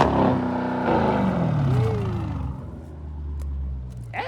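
A straight-piped 2020 Dodge Charger Scat Pack engine rumbles loudly, its exhaust note sweeping down after a rev and settling into a deep idle burble.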